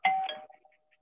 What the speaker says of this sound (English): So I've got my front doorbell